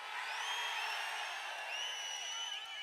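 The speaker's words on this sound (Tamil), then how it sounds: "உங்களுடைய ஆரவாரம் எழுச்சி" Crowd at a political rally in Tiruvallur, Tamil Nadu, cheering and roaring steadily with whoops and whistles, a dense sustained wall of voices with no single speaker standing out.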